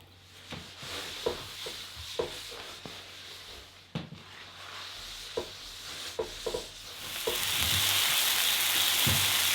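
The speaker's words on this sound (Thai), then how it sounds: "ยายก็จะย่างใส่เตานี้เลยใส่ น้ำมันพอให้ เนื้อไม่ติดกระทะนะคะ" Pork neck grills in an oiled pan on a stove, giving a steady close sizzle with scattered clicks and scrapes that swell into a louder, denser hiss near the end.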